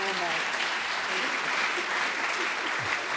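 Sustained applause from an audience at an annual meeting and legacy celebration, a dense, even wash of clapping heard at moderate distance from start to finish, with faint voices mixed in.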